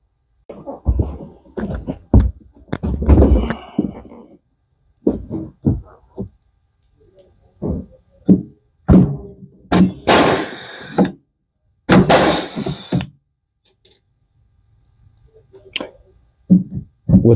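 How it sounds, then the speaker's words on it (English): Pneumatic air rivet gun setting 3/16-inch diameter, 1/4-inch-long rivets while reassembling a custom LiveScope pole mount, giving a run of sharp, close bangs and pops in irregular bursts separated by short quiet gaps. "I have a rivet gun, so right now I'm riveting it back together right now."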